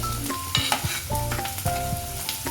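Onion and mint frying and stirred in a pan for methi chicken, a loud steady sizzle with rhythmic scraping and knocking of a utensil against the pan, close up.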